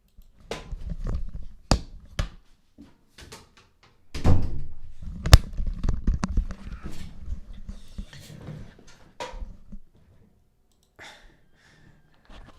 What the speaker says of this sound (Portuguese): eu vou fechar a porta aqui